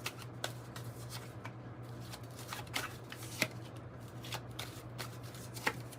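A 108-card oracle deck is shuffled by hand, giving a continuous papery riffling and slipping with soft card taps, close over a low steady hum, with no speech.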